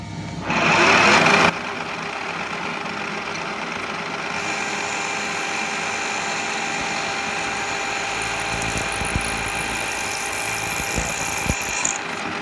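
A drill bit bores holes in an aluminium disc, giving a steady, close machine whine that runs throughout, with a louder, harsher burst in the first second and a half.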